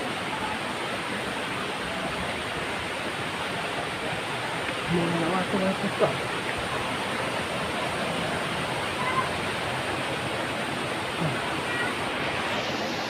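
Steady broadband rush of a waterfall at Srambang Park in Ngawi, Indonesia, fills the scene continuously, with a few faint words spoken briefly over it.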